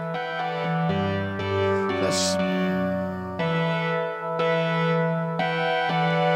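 Oberheim TEO-5 synthesizer chords ring out with a lingering reverb tail between changes, moderately loud, with a brief noisy burst midway.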